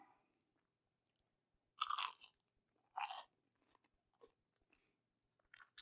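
Two loud, crisp crunches from biting into panko-breaded fried chicken nuggets, followed by quieter crunchy chewing, close up in a quiet room.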